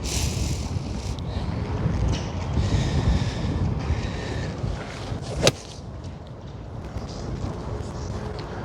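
Steady, loud wind roars across the microphone at an outdoor golf practice range, with one sharp click near the middle, likely a 9-iron striking a ball.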